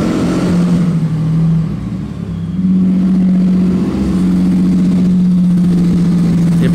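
A Lamborghini engine fitted with two superchargers runs close by, a loud steady mechanical drone with a brief dip in level before settling back into an even hum, no voices.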